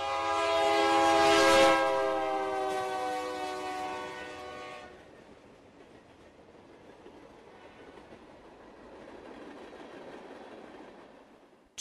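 A train horn blares loudly for several seconds, then fades into the steady rumble and faint rattle of rail cars passing.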